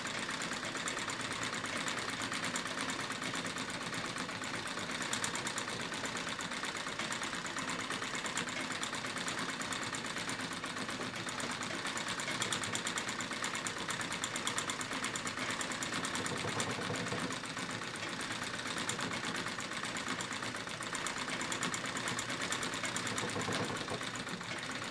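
A treadle sewing machine quilts through denim with a continuous, steady mechanical rattle and hum that runs unbroken, moderately close, with no voices.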